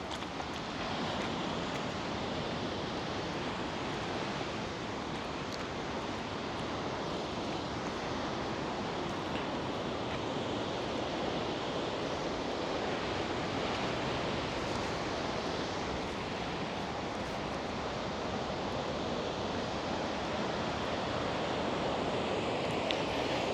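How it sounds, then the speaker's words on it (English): Ocean waves and surf roll in a continuous broad wash, with wind buffeting the microphone throughout and no talking. "The ocean is looking quite nice today."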